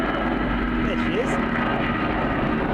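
An aircraft takes off from Birmingham International Airport, its engine drone a steady, moderately distant roar with a faint rising whine, heard alone without talk.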